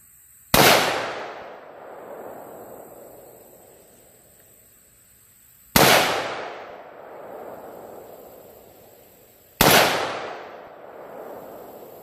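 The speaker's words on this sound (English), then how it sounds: "I'm gonna shoot the plate on the right just to show you what the 223 will do to it." Three sharp .223 rifle shots ring out a few seconds apart at an outdoor range, each striking a steel plate with a loud crack that decays into a long ringing tail, with no talking.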